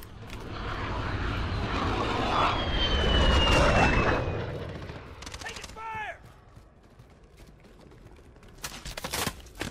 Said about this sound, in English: Enemy VTOL in the AO.